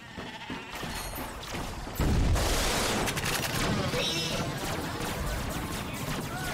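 Sheep bleat in the Ratchet & Clank video game, mixed into loud game noise with bursts that sound like gunfire, and no one talks over them.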